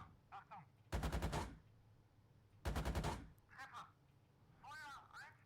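Two loud bursts of rapid gunfire from an armored vehicle in a video game, each a quick string of heavy shots about two seconds apart, with short voice snippets in between.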